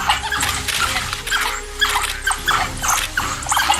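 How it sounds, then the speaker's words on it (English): African wild dogs attacking a bushbuck in the wild, with repeated high squeals, yelps and whimpers over a rough, scuffling background, the calls coming in short bursts throughout. "This bushbuck tries to defend itself as 3 wild dogs surround it."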